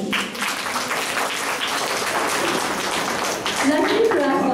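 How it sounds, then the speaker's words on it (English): An audience at a school stage event bursts into a big round of applause, dense sustained clapping filling the whole stretch, with voices mixed in beneath it. "There is a huge round of applause for him."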